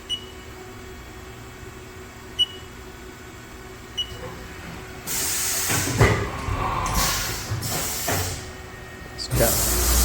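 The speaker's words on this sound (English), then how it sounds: "I'll make a tool change." Soft clicks and faint beeps precede a burst of loud pneumatic hissing and clunks as a 2018 Haas VF-4SS CNC vertical machining center swaps its CAT 40 tool, ending with another hiss.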